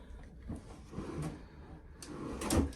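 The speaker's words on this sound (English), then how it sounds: "Another little drawer here." A small drawer in a Carnival Radiance Ocean Suite cruise cabin slides open and shut, giving a few close wooden scrapes and soft knocks amid quiet room tone.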